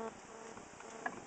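A low, steady buzz of bees being installed in a top bar hive, faint and continuous, with a brief soft knock near the end.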